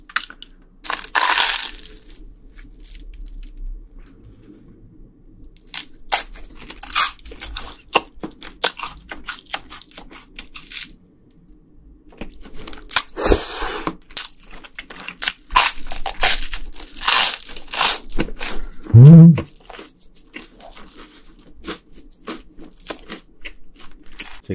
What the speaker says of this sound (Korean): 먹는데 너무 재밌고 바삭바삭 소리도 좋죠